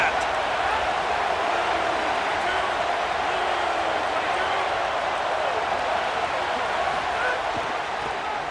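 Steady roaring stadium crowd in a college football video game, a broad continuous wash of cheering that holds at an even, loud level throughout, with a commentator's voice talking over it.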